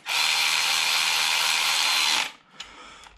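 A Milwaukee power gun spins exhaust header bolts in without tightening them, giving a loud, steady high-pitched whir for about two seconds before it cuts off, followed by a brief faint burst.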